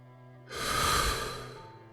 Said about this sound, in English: close your eyes, take a deep breath. In through the nose,